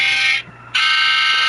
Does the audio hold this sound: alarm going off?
yes